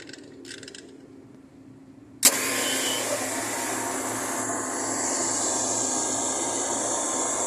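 A 30 hp single-stage air compressor starts abruptly after a quiet stretch, then settles into a loud, steady mechanical whirring hum that continues to the end, with no talking.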